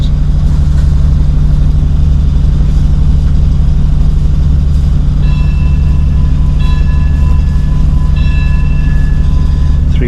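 A Thailand Railway night train rumbles loudly and steadily as it departs a station, a heavy continuous low roar with a few faint squeals and tones riding on top, no voices.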